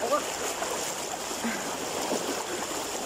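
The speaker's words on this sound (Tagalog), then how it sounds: "Malakas po yung tubig." River water rushes steadily in a broad, constant hiss, a strong fast-flowing mountain river heard nearby in Lambunao, with no clear voices over it.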